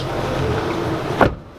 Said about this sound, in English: So let's pop the bonnet, which is right there.